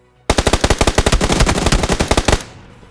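Rapid automatic gunfire in the video game PUBG, one loud close burst of about two dozen evenly spaced shots over two seconds, then a short fading tail, no talk.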